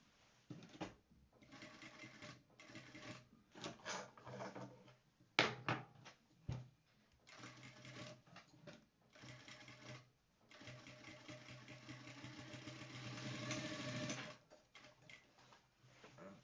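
A sewing machine stitches a vintage shirt in bursts of rapid mechanical ticking, stopping and restarting several times, close and steady with no talk.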